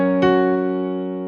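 A single piano tone in the left-hand bass range is struck and left to ring, decaying slowly and alone with no talk.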